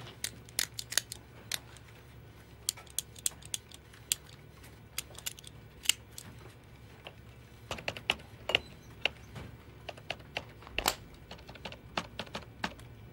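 A pen is clicked repeatedly in an office, producing sharp, close clicks in uneven rapid runs and single snaps over a quiet room hum, with no talk.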